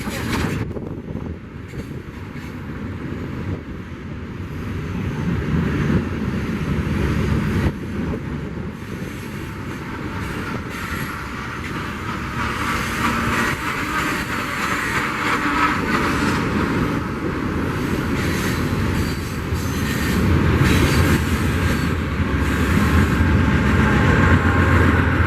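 A freight train locomotive runs with its DPU engine doors open, a loud continuous engine roar and rail rumble building steadily, with heavy wind buffeting on the microphone outdoors on a hill.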